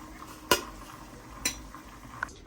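Fried onions are strained from the oil, giving three sharp metallic clinks of utensil on pan or strainer over a faint, quiet background.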